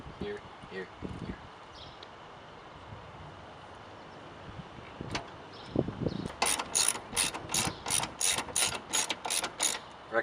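A hand ratchet threads Teraflex 13mm bolts while installing a hinged spare tire carrier on a tailgate, first scattered handling knocks, then a steady run of close, crisp clicking strokes in quick repeated pulls.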